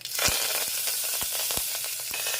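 Cumin seeds, asafoetida and fresh curry leaves sizzle steadily in hot oil with mustard seeds, a close, constant hiss broken by scattered sharp pops and crackles; no voices.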